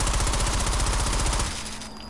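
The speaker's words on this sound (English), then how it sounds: "This is the OVP M1918, based off the Italian Automatico M1918, most used in the end of World War I." OVP M1918 submachine gun, based on the Italian Automatico M1918, fired in Sniper Elite 4: a very rapid, steady stream of shots for about a second and a half, then a decaying echo.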